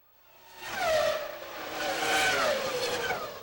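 A Minardi Formula One car passes during Thursday practice at the 2001 Monaco Grand Prix. Its high-pitched engine wails up and shifts through gears in a loud, sweeping pass that builds, peaks and then fades.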